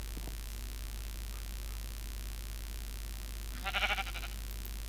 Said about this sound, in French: Le mouton.